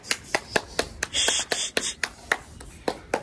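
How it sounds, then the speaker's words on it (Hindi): Two people clap their hands about a dozen times in a steady rhythm, sharp and close, to send young pigeons on their first flight. A brief bird-like chirp sounds midway through. "ताली बजाओ दोनों"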